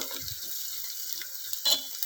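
Chopped onion sautéing in a pan with a pinch of asafoetida for dal khichdi, giving a steady, quiet sizzle and hiss with one brief clatter near the end.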